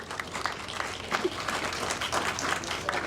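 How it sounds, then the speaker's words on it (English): A late-night show audience gives a round of applause for the Minister of Health, moderately distant clapping that stays fairly even across the whole stretch. "Give him a round of applause."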